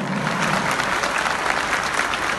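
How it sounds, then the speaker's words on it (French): Hearty applause from a gala audience greets a circus performer's act at a 2018 Christmas gala show, a brief, full burst of dense clapping with no voices over it. "vos applaudissements nourris et chaleureux pour ce numéro exceptionnel"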